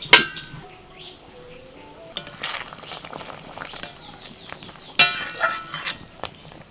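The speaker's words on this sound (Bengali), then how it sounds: "এবার ঢাকা দিয়ে দিচ্ছি।" A lid set down with a metallic clink over a pan of bubbling prawn malai curry in coconut milk, a couple of sharp clatters with soft simmering between, close by and without speech.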